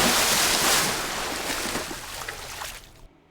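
A library water effect: a broad rushing wash of surf or spray starts loud, then slowly fades and thins out, ending abruptly in near silence.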